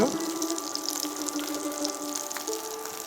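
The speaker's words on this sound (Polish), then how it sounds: "Więc teraz podlewam je na około troszkę więcej niż centymetr wodą." Water is poured into a hot pan of frying gyoza dumplings, a loud hissing gush with bubbling sizzle that holds steady for a few seconds.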